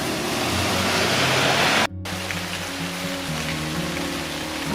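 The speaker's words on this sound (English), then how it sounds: "It's still raining at the end of the day." Steady rain falls outdoors on a forest trail at dusk, a dense continuous hiss close to the listener that briefly cuts out, with a low hum underneath.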